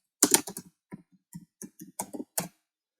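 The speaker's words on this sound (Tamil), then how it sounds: "ஸோ டிஜிட்டல் மார்க்கெட் டைப் பண்ணிருக்கேன்." Keys tapped on a computer keyboard while entering a search term, heard as a short, irregular run of close, fairly quiet clicks with no talk.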